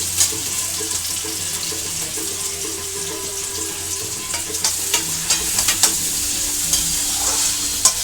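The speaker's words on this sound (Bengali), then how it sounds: "পেঁয়াজ দিয়ে দেবো তেলের মধ্যে" Onions sizzling steadily in hot oil for a chicken curry, a dense continuous frying hiss with occasional spatula scrapes and stirring clicks toward the end.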